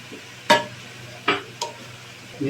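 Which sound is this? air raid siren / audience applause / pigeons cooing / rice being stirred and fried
rice being stirred and fried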